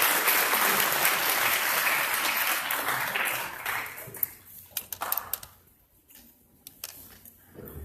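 An audience at a law lecture at Mexico's national university applauds the speaker, steady dense clapping that thins out after about four seconds into scattered claps and then near quiet.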